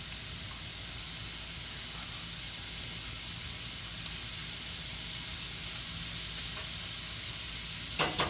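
Flounder fillets frying in butter in a pan give a steady, loud sizzle that runs unbroken throughout, with a brief scrape or clatter near the end.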